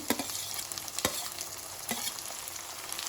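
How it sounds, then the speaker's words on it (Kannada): Chopped tomato and onion fry together in a pan with a constant close sizzle, broken by occasional spoon scrapes and stirring knocks. "ಟೊಮೆಟೊ ಸ್ವಲ್ಪ ಮೆತ್ತಗಾಗೋ ತನಕ ಇದನ್ನು ಫ್ರೈ ಮಾಡ್ಕೊಳ್ಬೇಕು"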